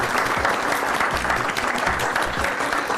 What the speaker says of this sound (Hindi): सही जवाब। तालियां।